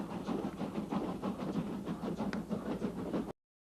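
A slow passenger train runs on its rails, a steady rumbling roll with faint rhythmic clatter, fairly close and continuous with no voices.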